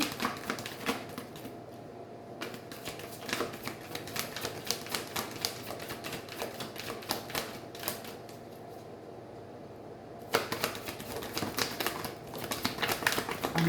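Tarot cards being shuffled give a long run of quick, close, papery clicks and riffles, steady and dry with only brief pauses.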